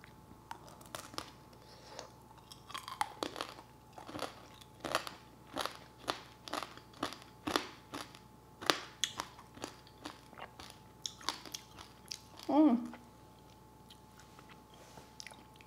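Candied grape tanghulu with a hard sugar shell is bitten and chewed up close. Sharp, glassy crunches come in an uneven series against a quiet background.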